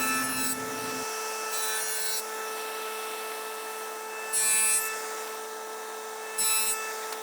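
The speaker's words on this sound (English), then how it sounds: "We'll begin by cutting our 1/8 inch deep sides." A table saw cuts shallow 1/8 inch deep sides in wood, with a steady high motor whine and short harsh bursts of blade biting the board, close and loud, no talk.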